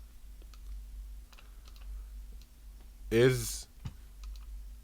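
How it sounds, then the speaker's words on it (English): Computer keyboard keys click in a few sparse taps while a payload is typed into a browser URL, quiet and close, with a brief spoken word and a louder burst of another sound partway through. "typing the payload in the URL"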